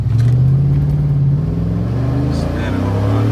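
A car with a 5.3 engine, headers and 4.10 gears accelerates hard, its loud engine drone climbing steadily in pitch from inside the cabin, with a voice heard briefly over the roar.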